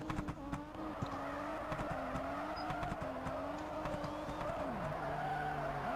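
A Toyota GT86 drifting with the handbrake in Drift Street Japan: a steady engine drone with wavering tire squeal throughout, the engine tone dropping sharply near the end.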